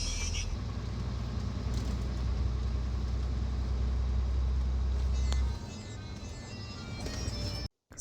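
Car driving on a road in the Khabarovsk region of the Far East, heard from inside the cabin: a steady low engine and road rumble that drops off sharply near the end, with faint voices.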